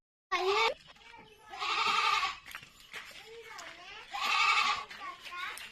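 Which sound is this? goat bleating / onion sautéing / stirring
goat bleating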